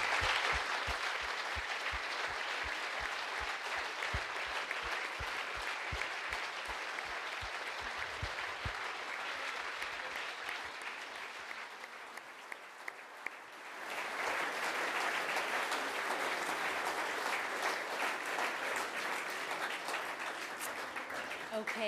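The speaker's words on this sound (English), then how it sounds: "I think a huge round of applause." An awards ceremony audience gives sustained applause, many hands clapping in a dense wash that dips briefly partway through and then swells again, with some voices mixed in.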